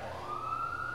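An emergency vehicle siren wails in a single rising tone, steady and moderately loud, as if from a vehicle passing outside.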